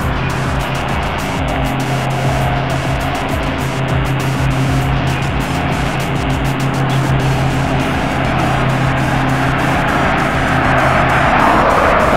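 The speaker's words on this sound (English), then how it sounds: "And this is the car that's going to be going. This is the Mercedes." A Mercedes car driving past during a laser jammer test, its engine and tire noise a steady roar that swells slightly toward the end.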